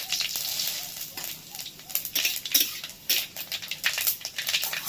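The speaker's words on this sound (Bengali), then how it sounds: "এটা গরম হয়ে গেছে, দিয়ে দিচ্ছি 5 ফোড়ন আর 2টো তেজপাতা।" Bengali five-spice and two bay leaves hit hot oil in a wok, giving steady close crackling and popping with sharp spitting bursts throughout.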